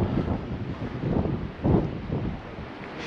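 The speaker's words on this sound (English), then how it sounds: "it's a little bit bleak, still a bit windy" Wind blowing outdoors on a bleak winter day near cave entrances, a steady low rumbling buffet against the microphone that swells in brief gusts, moderately loud and alone.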